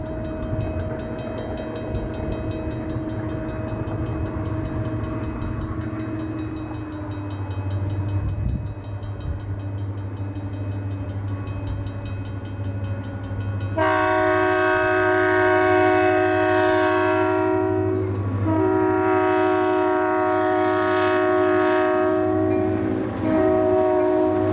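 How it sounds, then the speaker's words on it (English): Burlington Northern empty coal train bound for Wyoming rumbling past an unpaved road crossing, low engine drone building before a loud, close multi-tone horn blares in several long wavering blasts. "A Wyoming-bound Burlington Northern empty coal train crossed an unpaved Baptist road"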